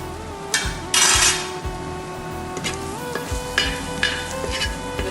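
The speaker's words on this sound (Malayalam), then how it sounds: "മസാലയും കൂടി ഇട്ട് ഉള്ളി നല്ലോണം ഒന്ന് ഫ്രൈ ചെയ്തെടുക്കണം" Onions fry in oil with beef ularthu masala and turmeric while being stirred, with a steady sizzle, scraping strokes of a spoon against the pan and occasional clinks, close and without talk.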